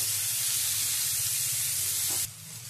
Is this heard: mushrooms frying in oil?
yes